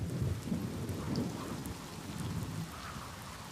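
Heavy rain pours steadily onto sun pitcher plants, a dense close hiss of drops with low rumbling underneath, continuous and loud without any voices.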